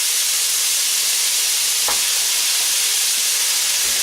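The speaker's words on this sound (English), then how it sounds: "let's get that frying." Steady, bright sizzle of chickpeas frying in a pan fills the whole clip, a dense continuous hiss with one brief crackle midway.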